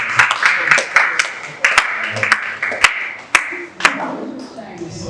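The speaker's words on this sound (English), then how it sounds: "I think they deserve a round of applause." A training session audience applauds its facilitators with a scattered round of clapping in which sharp individual claps ring out, with murmured voices underneath as it winds down.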